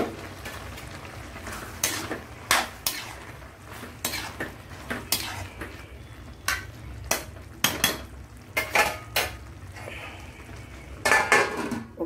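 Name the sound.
tomatoes added to a pan of prawns and chana dal, stirring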